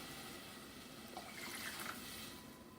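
Broth pours from a container into a pot of rice, a soft, steady liquid stream that swells slightly toward the middle and stays faint and close.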